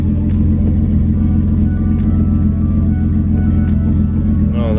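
Close, loud idle of a BMW E36 engine with the clutch engaged, a steady low rumble with a ticking rhythm running through it, and a brief rising whine near the end.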